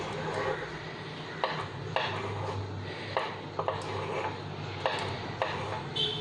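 White chocolate chips mixed into vanilla mug cake batter, a spoon clinking and tapping against the mug in irregular strokes over a low background hum, close and without talk.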